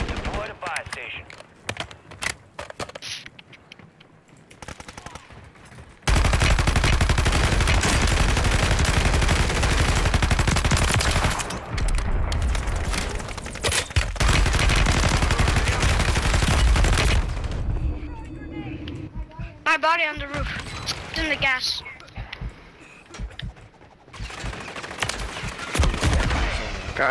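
Call of Duty Modern Warfare III gunfire: a long, dense stretch of loud automatic shooting and booms, with sparser shots before and after and a player speaking in places.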